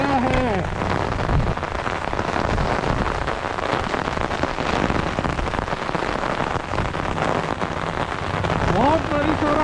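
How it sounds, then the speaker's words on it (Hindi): Heavy monsoon rain pours steadily near a temple in Chikmagalur, a loud continuous hiss of downpour with brief faint voices under it. "बहुत बारिश हो रहा है"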